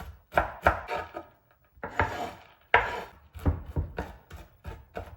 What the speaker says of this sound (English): So I'm going to start by just chopping up my dried cranberries nice and finely.